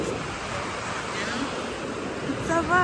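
Steady wash of ocean surf breaking on a beach, a continuous rushing roar with some wind noise, fairly even in level with a slight swell near the end.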